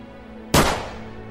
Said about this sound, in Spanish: Después escuchó otro disparo.